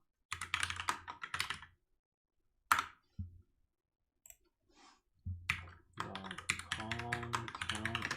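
Bursts of fast computer-keyboard typing with clattering key taps come in short clusters separated by pauses, ending in a longer busier stretch of clicking.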